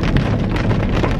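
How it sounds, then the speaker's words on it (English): Rain falls steadily at night outside a home on a hot June evening, a dense, even hiss with soft patter and a touch of wind rumble, close and continuous. "I can't believe it's raining right now."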